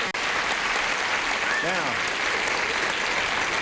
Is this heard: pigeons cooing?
no